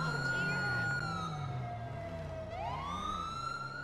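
Fire truck sirens wailing as the engines pull up on scene during a police patrol game, a loud rising and falling siren tone over a low vehicle rumble.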